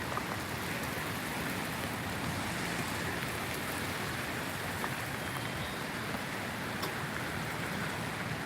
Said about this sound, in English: Of course, now it's starting to rain.